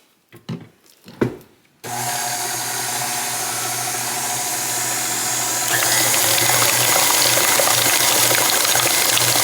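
An electric mixer whirs steadily through dessert batter with vanilla and nutmeg, starting abruptly after a few soft knocks, loud and continuous, rising in intensity partway through.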